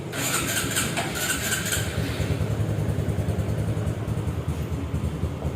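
Restored motorcycle engine running just after an electric start, a steady close rumbling idle with a brief brighter rattle at the start, loud and alone.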